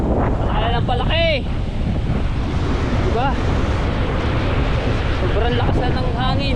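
Ocean waves growing larger at a beach roar steadily under heavy wind buffeting the microphone, with a person speaking briefly over the surf.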